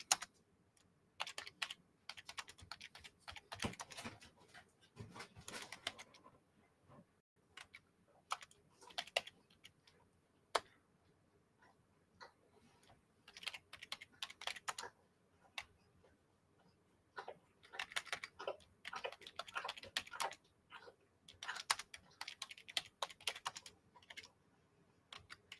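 Someone types on a computer keyboard in scattered bursts of faint, close clicks separated by quiet pauses.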